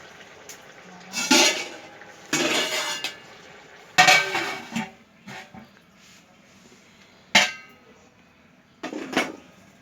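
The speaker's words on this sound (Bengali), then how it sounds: "পাতিলটা এখন চুলা থেকে নিচে নামিয়ে দমে দিয়ে রাখবে।" A metal cooking pot of hilsa khichuri is handled and lifted off the stove, giving several separate clanks and scrapes in short bursts, close and fairly loud, with quiet gaps between them.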